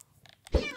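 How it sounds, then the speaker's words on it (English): A short Minecraft cat meow rises suddenly after faint quiet sounds, fairly close and clear. "I just heard a meow."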